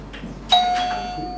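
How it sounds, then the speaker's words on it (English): A contestant presses the answer bell in a Grade 9 girls-versus-boys school academic quiz competition, giving one bright ring with a lingering tone that fades over about a second, after faint background murmur. "You click the bell, then you go."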